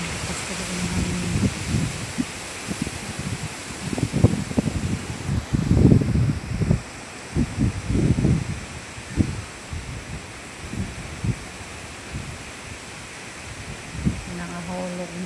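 Strong typhoon wind tearing through coconut palm fronds, gusting bursts of harsh rustling and wind buffeting the microphone, swelling and easing in waves, with a voice talking faintly at times.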